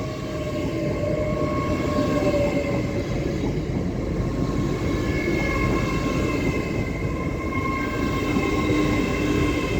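An electric Class 801 passenger train rumbles steadily past at close range at York on the East Coast Main Line, with a continuous roar of wheels on rails and faint high humming tones above it.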